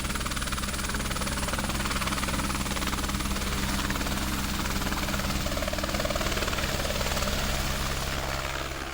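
A helicopter over the Amazon rainforest in Yanomami territory, heard up close and loud with a continuous thudding rotor and engine roar that holds steady for the whole stretch, without talk.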